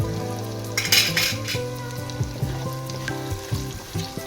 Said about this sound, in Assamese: প্ৰথমে ভাজি ল'ব লাগিব কঁঠালখিনি